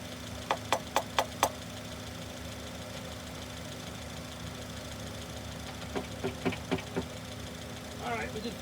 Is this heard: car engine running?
yes